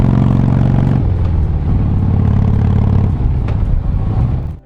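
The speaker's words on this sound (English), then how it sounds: "That deep, throbbing sound is instantly recognizable." A Harley-Davidson motorcycle engine throbs with a deep, loud, steady exhaust rumble, its pulsing low beat holding close and continuous before easing off at the end.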